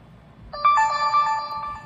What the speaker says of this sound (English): that's my tablet going off, guys. I'm getting all these notifications